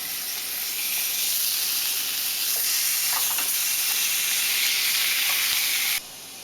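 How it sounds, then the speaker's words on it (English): Bacon sizzles and hisses on a stovetop in a steady, close, fairly loud wash of frying noise that runs unbroken for about six seconds, then drops off abruptly; no one talks. "Take the rest of my bacon, throw that on that stove."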